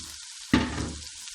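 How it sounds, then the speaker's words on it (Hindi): Ginger, garlic and onion frying in a pan, with a sharp burst of sizzling as peas are added that then settles back to a softer, steady crackle, heard close and alone. "अदरक लहसुन प्याज हमारे फ्राई हो चुके हैं, गोल्डन होने लगे। अब इसमें हम ये मटर"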